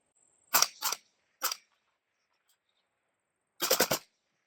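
Suppressed rifle shots from a 14.5-inch barrel fitted with a Siege ROC 556 suppressor: three single shots close together, then a pause and a quick burst of four, sharp and near.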